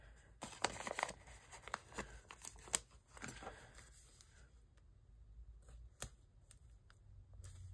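Scissors trimming a paper planner sticker, a series of quiet, sharp snips and paper rustles in the first three seconds, then sparse, faint cuts later on, recorded close in a quiet room.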